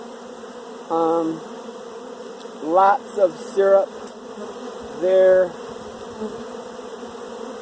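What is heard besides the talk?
honeybees buzzing during brood nest inspection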